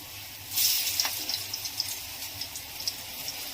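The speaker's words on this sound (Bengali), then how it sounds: "আস্তে আস্তে করে লাল লাল করে এপিট ওপিট করে ভেজে নেব।" Lote fish (Bombay duck) fry in a pan with a soft, steady sizzle, with a few small crackles and pops over the low hiss.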